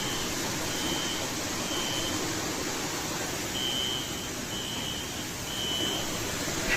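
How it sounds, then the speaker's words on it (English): A video game alarm sounds as a series of short, evenly spaced high beeps over a steady, loud background hiss. "It even has a Tarkov alarm."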